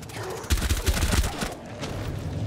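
Gunfire from the video game Rainbow Six Siege in its Outbreak mode: a rapid, close burst of several shots in quick succession, followed by a softer rumbling tail.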